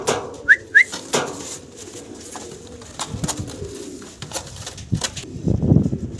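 Pigeons at a farm loft coo and call up close, with a couple of short whistles, soft rustling and handling noises, and a low burst of cooing near the end.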